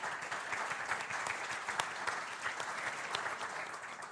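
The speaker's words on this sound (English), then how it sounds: "Round of applause, please." Audience at a CEO panel on sustainability breaks into steady, full applause that keeps a constant level from start to end, with no voices over it.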